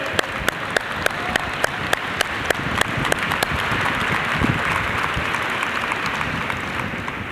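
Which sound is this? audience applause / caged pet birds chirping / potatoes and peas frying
audience applause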